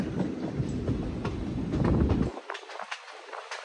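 A train on the curving Kollam–Sengottai line rumbles along its rails with a steady clatter, then the low roar drops away, leaving faint clicks and squeaks of the wheels.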